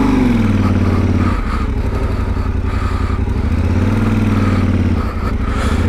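A Yamaha Tenere 700 World Raid motorcycle engine runs loud and close, with a steady low rumble and brief throttle dips and rises, and no talking over it.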